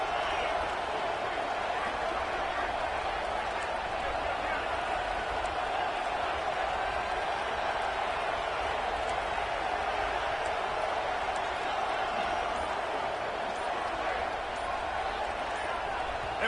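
A stadium crowd at an Appalachian State versus Syracuse college football game, a loud continuous roar that stays steady for the whole stretch, with a commentator talking over it.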